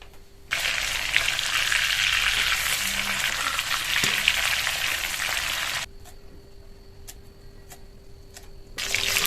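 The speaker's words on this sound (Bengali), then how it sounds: "তেলটা ধোঁয়া ওটা গরম হয়ে গেলে মাছটা ছেড়ে দেবে মাছটা ও সাইডে ভাজা হতে থাকুক" Loud, steady sizzling of fish frying in smoking-hot oil for several seconds, then quieter with a few sharp clinks, before the sizzle returns.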